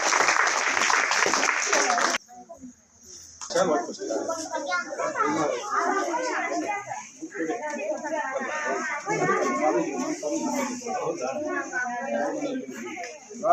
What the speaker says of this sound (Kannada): ಚಪ್ಪಾಳೆ ಮಕ್ಕಳೇ ಚಪ್ಪಾಳೆ ಚಪ್ಪಾಳೆ ಚಪ್ಪಾಳೆ